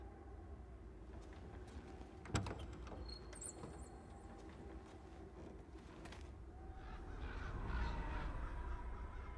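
Crow cawing in the video game Life is Strange: Before the Storm, one sharp caw standing out over a steady low rumble of background ambience, with a faint swell of noise toward the end.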